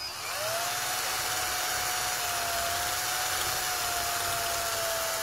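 A cordless screwdriver whines steadily while cutting into an LED lamp, a continuous high-pitched buzz with a slowly wavering tone, close up, with no talking.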